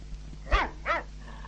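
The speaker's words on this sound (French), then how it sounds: "Non, mais nous avons un bon chien de garde." A guard dog gives two sharp barks in quick succession near caravans in an old French audio drama on vinyl, close and fairly loud over a low steady hum.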